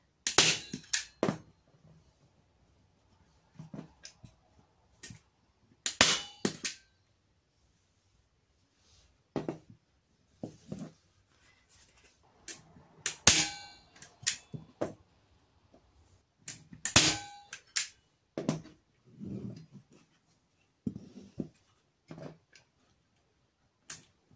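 A staple gun fires into canvas stretched over the corner of a wooden frame, making a dozen or so sharp, close snaps spaced irregularly with quiet gaps and soft handling noises between them.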